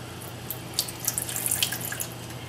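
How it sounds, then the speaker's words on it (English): A small splash of water poured into a pan while cooking steak au poivre, a brief gentle trickling and splashing at close range with no talking. "maybe just a little splash of water"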